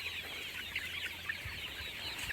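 Desi Golden Misri hens on a poultry farm cluck softly and steadily, a low continuous flock murmur with no talking.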